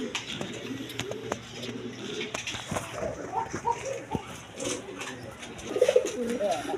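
Pigeons at a market stall coo softly and repeatedly amid background chatter and light ambient noise, with a louder burst of cooing near the end.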